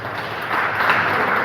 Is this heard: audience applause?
yes